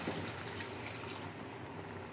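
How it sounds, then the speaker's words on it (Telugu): About a glass of water is poured into a simmering fish curry of fried fish pieces in a cooking pot. The pour gives a continuous, soft splashing and gurgling stream, close by and with no one speaking. "ఇప్పుడు కొంచెం నీళ్లు పోసుకుందాం ఫ్రెండ్స్"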